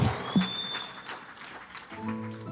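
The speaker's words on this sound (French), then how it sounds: "Acclamez fort." Applause from a church congregation, a loose patter of clapping with scattered cheers, moderate and somewhat distant, with a tonal voice or instrument joining near the end.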